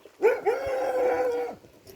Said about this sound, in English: Yeah, angry dog.